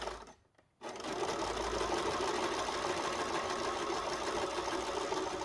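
A sewing machine stitches along the hem of black pants, its steady mechanical whir running loud and continuous after a brief pause near the start.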